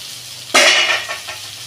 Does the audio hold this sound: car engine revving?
no